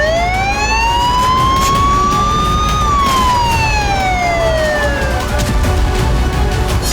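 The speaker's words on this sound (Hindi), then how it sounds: "रूस की हर रिफाइनरी और तेल गोदाम के आसपास खतरे के सायरन बजने लगे।" Air raid warning sirens wail around Russian oil refineries and fuel depots during a drone attack: one long tone climbs slowly, peaks and then glides back down, loud and steady over a constant low rumble.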